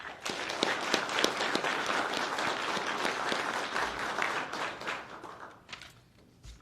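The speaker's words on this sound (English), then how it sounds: "a round of applause for executive staff, please" Sustained applause from a crowd at a law enforcement academy graduation ceremony, dense clapping at moderate distance that holds steady for several seconds and then thins out near the end.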